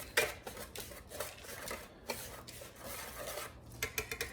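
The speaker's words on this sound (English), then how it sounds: "So I'm just gonna mix and incorporate those together real quickly." Dry waffle batter ingredients being mixed together in a bowl, giving a continuous scraping, rasping whisk-and-bowl sound with repeated strokes, close and moderately loud, no talking.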